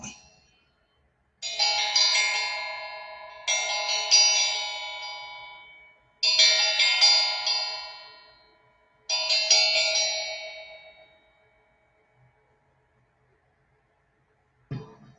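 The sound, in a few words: bells ringing sound effect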